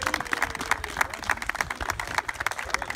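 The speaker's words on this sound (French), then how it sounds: "j'aimerais bien qu'on l'applaudisse." A crowd applauds at the outdoor inauguration of an urban art project at a holiday village, honoring the graffiti artist sponsor; dense, lively clapping close by, steady throughout with rapid overlapping hand claps.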